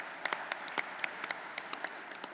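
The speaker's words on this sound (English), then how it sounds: "yeah, you ought to clap for yourself." A modest round of applause from the audience at an IAM transportation conference, with scattered, fairly faint claps heard throughout the short stretch.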